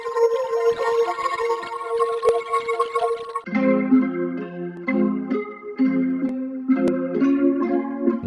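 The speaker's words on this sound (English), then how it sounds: "This will sound really cool with a bit crush on it." A bass line with a bit crush effect in a beat production, gritty distorted tones in a rhythmic pattern: higher buzzy notes at first, then a deeper crushed bass riff, loud and with no voice over it.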